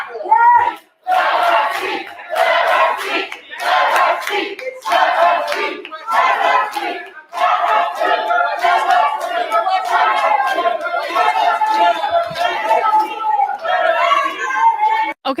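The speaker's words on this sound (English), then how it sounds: "I'm confused right now of if the crowd is saying let her speak or let him speak" A protest crowd chanting in rhythmic unison at a political rally, loud and continuous with repeated shouted phrases and some clapping mixed in.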